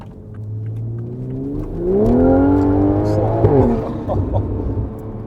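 A Toyota Supra with a stage 2 tuned B58 engine and modified exhaust idles, then revs up into a loud, rising, metallic-edged roar that drops back to a rumbling idle, heard close with a little background talk.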